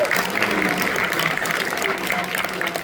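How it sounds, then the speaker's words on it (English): An audience at a large conference event applauds in a steady, dense wash of clapping that carries evenly from start to end, loud and full. "if we can give him a round of applause"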